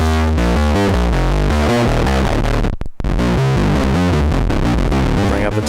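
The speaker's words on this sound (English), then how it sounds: "More distortion. Just absolutely annihilate it." An Erica Synths Bassline synthesizer plays a fast, heavily distorted, gritty bass sequence that drops out for a brief moment and then carries on loud and continuous.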